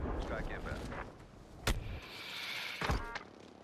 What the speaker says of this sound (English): Put the airstrike on him.